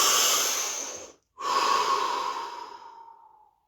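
A person takes a deep breath during a guided body-scan relaxation session, drawing a long, close, airy inhale, pausing briefly, then releasing a slow, fading exhale, with no talking.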